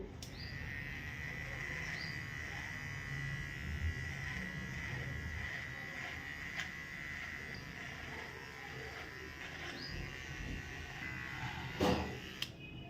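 An electric trimmer shaving a beard gives off a steady, thin buzz that runs through the whole stretch. The sound is quiet, with small clicks and a few distant bird chirps.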